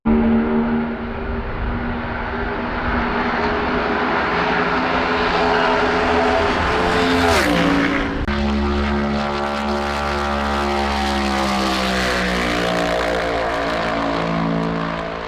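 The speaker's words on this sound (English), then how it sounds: "the sound of this next-gen car" A NASCAR Gen 7 next-gen race car engine roars loud and continuous, its pitch rising and then dropping sharply in a doppler-like sweep as it passes close by, then climbing again as it pulls away.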